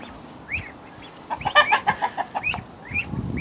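Chickens cluck in a flock, close by, with a run of rapid clucks in the middle and a few squeaky chirps from young birds between them, and no talk.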